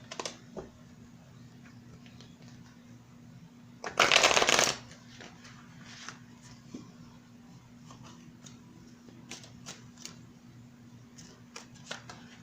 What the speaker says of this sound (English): Oh, it doesn't want to shuffle.